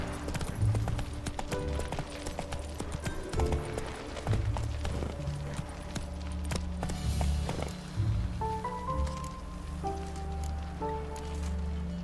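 Roach the horse gallops through The Witcher 3, hooves clip-clopping in a steady rhythm over game music and a rain-like patter, with no voices over it.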